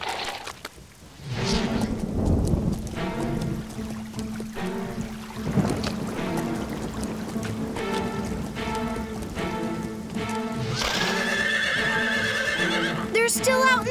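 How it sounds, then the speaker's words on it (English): Cartoon horses neigh and whinny loudly during a storm, with clopping hooves and steady rain throughout; several sharp calls stand out over the continuous downpour. "Let's get the horses in the stable."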